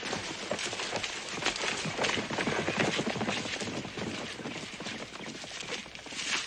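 Horses' hooves walking over a muddy creek bed in a Western setting, a steady rustling clatter of steps close by with no talk.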